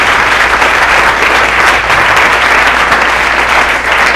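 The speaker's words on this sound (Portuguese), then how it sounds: "Quem pode aplaudir o Senhor pelo livramento?" A church congregation at a Sunday service applauds, a loud, continuous wash of many hands clapping together without a break, filling the space with no voices on top.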